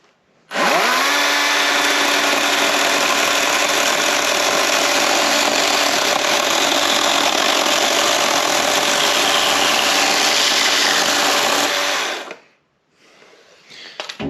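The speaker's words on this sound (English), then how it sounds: "It's nice having this little Wild Badger electric saw to use inside the garage." A small Wild Badger electric saw cuts steadily through wood for a log bench inside a garage, a loud continuous whine running about twelve seconds before stopping abruptly, followed by quieter handling noise.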